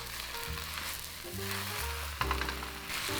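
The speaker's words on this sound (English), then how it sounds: "Then add the bok choy, and we're gonna cook this with salt and pepper" Bok choy cooking in a pan with salt and pepper, a bright, continuous sizzle close by, with faint tonal hum underneath and a small clatter partway through.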